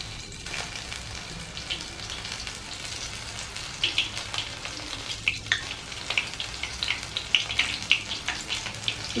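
Skewered snail kebabs fry in oil one by one over a lowered gas flame, giving a steady crackling sizzle with sharper pops that build toward the end, close and with no talk.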